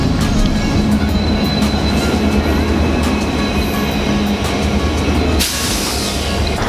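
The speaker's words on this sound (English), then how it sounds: "Alright, there's a train." A train rumbles past nearby in Los Angeles with a steady, loud low roar and faint rail clatter, ending in a brief shift near the end.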